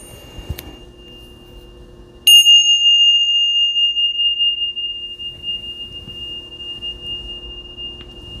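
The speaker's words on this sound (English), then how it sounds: "Hold on, let me ring the bells." Bells ring during a spiritual reading: a single sharp strike, then a louder, clear ding whose steady, pure tone rings on and slowly fades over several seconds, alone and close.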